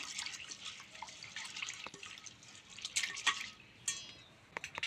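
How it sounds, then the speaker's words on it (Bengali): Red lentils (masoor dal) being rinsed in water, with soft irregular drips, splashes and trickles, brief sharper spatters near the end, quiet and close with no talking. "মসুর ডাল ধুয়ে নিচ্ছি এইভাবে মসুর ডাল ভালো করে ধুয়ে নেব"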